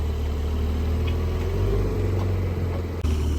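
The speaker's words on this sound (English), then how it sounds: "Oh look, Oak Green Metallic Sport Classic just pulled up." A Porsche 911 Sport Classic in Oak Green Metallic pulls up at a car gathering, its engine giving a steady low rumble close by with an even hum throughout.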